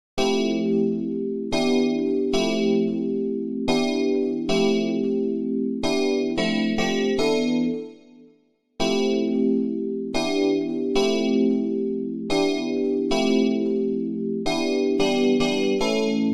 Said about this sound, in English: the piano that sounds like a freaking bell